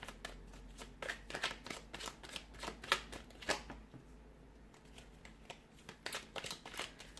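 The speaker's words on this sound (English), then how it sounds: "So we'll give the cards a shuffle" Tarot cards shuffled in a steady run of crisp riffling bursts, with a brief pause midway before more shuffling, close and moderately loud.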